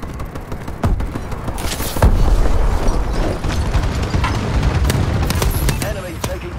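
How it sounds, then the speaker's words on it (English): A friendly bombing run in Call of Duty Advanced Warfare, loud booming explosions rolling in over a busy battlefield of gunfire, with a game announcer's voice speaking over the blasts. "Friendly bombing run clearing the way."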